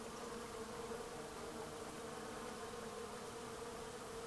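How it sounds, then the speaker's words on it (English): Bees buzz steadily around a flowering native plant with small green flowers, in a dry-area tree planting; a soft, continuous insect hum sits at low level throughout with no talk. "it's full of bees already. I don't know if you can hear it"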